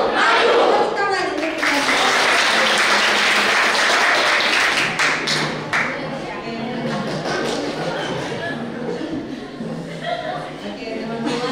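An audience of students at a university youth entrepreneurship lecture bursts into loud applause that fades into softer scattered clapping, with voices and crowd noise mixed in.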